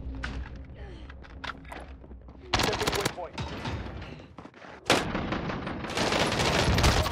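Gunfire in a Call of Duty Cold War Warzone match: sharp bursts of automatic fire and rapid shots, loud and close, with heavier volleys around the middle and end, mixed with voices speaking over the action.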